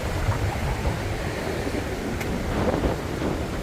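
Steady wash of sea swell surging onto a coconut-palm shore at high water, with a moderate breeze buffeting the microphone, continuous and fairly loud with no voices.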